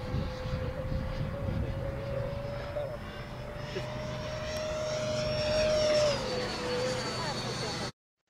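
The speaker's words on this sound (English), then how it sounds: "The plane is flying at high engine power." A Freewing MiG-29 Fulcrum RC jet roars steadily at high power, its whine rising and shifting pitch as it passes, then the sound cuts off abruptly.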